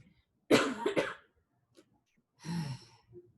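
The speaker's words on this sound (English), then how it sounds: "I cough a lot." Two close, abrupt coughs, then a pause and one more rough cough. A faint breath follows.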